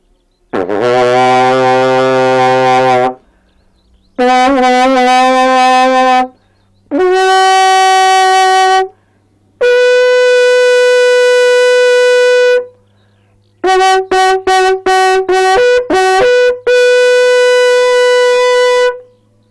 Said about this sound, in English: What a wonderful sound that is. So that's the post horn.